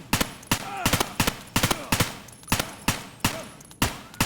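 Rapid single gunshots from 855 5.56 ammunition in Escape from Tarkov, about a dozen sharp loud reports at an uneven, quick rhythm, close and with no talk.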